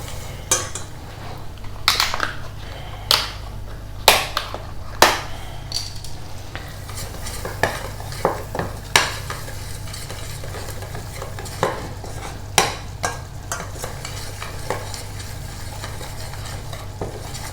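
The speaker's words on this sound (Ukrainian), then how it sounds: "Якраз поки наше масличко тане, ми це все дуже-дуже гарно вимішуємо." A utensil scrapes and clacks repeatedly against a pan in an uneven rhythm as butter melts for lasagna sauce, over a soft steady sizzle, close and loud.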